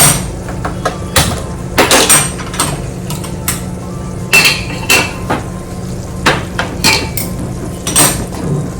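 A cooking pot of ghee shifted to another gas burner: a series of sharp metallic clanks and scrapes of the vessel against the stove, irregular and close, over a low steady burner hiss.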